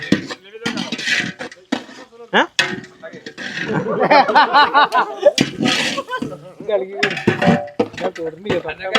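Onions stirred in a pan for chicken zurbiyan, with utensil scraping and clinking against the pan under a sizzling fry, mixed with talk and a short laugh.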